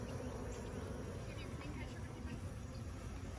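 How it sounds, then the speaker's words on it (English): Insects buzzing outdoors, most likely bees: a steady, high-pitched drone that runs continuously with no breaks, faint and somewhat distant, under broadband outdoor noise and a few quiet human sounds. "I just heard the high pitch buzz"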